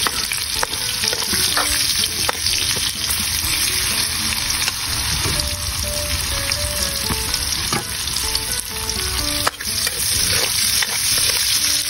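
Garlic and onion sautéing in a pan for pakbet, a loud continuous sizzle and crackle of hot oil close up, with occasional stirring and clinks throughout, no speech.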